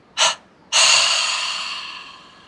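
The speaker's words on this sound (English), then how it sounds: "Now exhale completely." A deep, complete exhale during a yoga breathing exercise, following a short sharp breath: one quick puff, then a long breathy outflow that slowly fades over about two seconds, close and alone.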